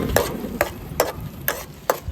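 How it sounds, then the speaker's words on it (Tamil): Masala frying in a pan is stirred with a spoon in five evenly spaced scraping strokes, close and fairly loud over a steady sizzle. "நல்லா கிண்டி விட்டுக்கோங்க."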